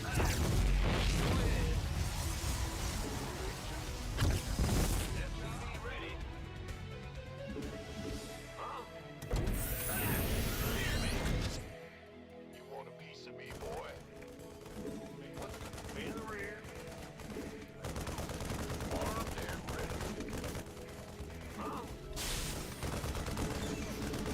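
Cannon fire in a StarCraft 2 match: repeated booming blasts and bursts of gunfire-like impacts over a busy, dense battle soundscape with music, loud throughout apart from a short lull midway.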